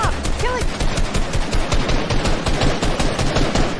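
Rapid automatic gunfire rings out in the Fortnite video game, a loud, dense stream of sharp shots fired in quick succession for the whole stretch.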